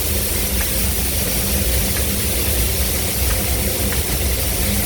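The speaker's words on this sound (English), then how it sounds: "These are the hydraulic pumps." Hydraulic pumps on a tunnel boring machine run as a steady, loud mechanical drone with a broad, even hum that holds constant throughout, with no talk over it.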